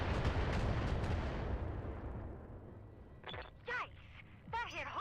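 Artillery barrage explosions in the video game BattleTech, a heavy rumbling blast decaying over a couple of seconds, followed by short bursts of voice-like chatter.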